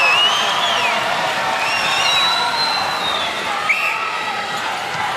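A noisy crowd at the 2010 Commonwealth Games netball final in Delhi, a steady roar of cheering with scattered whistles and shouts, while a commentator talks over it.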